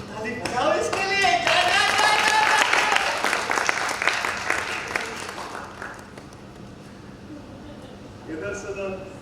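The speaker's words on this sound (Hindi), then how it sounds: "क्या प्यारा बच्चा, ताली बजाओ इसके लिए।" Theatre audience at the Haldia drama festival stage performance bursting into loud sustained applause with dense clapping, gradually thinning out toward the end, while a performer's voice talks over it.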